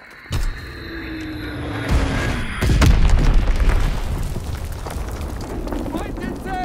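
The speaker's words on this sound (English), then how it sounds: "Enemy bomb incoming. Get to cover." A bomb blast in Call of Duty: WWII lands with a deep rumbling boom, preceded by a sharp thump and a whistling descent, then a long rolling roar that slowly fades under game noise.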